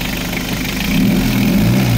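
Nissan TD27 diesel engine with a dirty air cleaner idling close by, a steady low hum whose intake note rises slightly partway through as the turbo draws in air.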